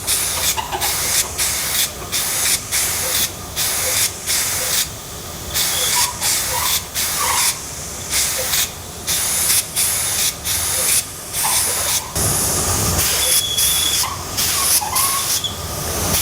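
Paint sprays from a spray gun onto a surface in a paint room, coming as repeated hissing bursts of a second or so, separated by short pauses, close and loud with no talking.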